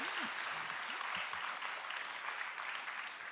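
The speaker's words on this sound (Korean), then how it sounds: "큰 박수 부탁드리겠습니다." An audience at an international arts education symposium gives a steady round of applause, even and continuous though fairly soft and distant, with a brief voice audible at the start.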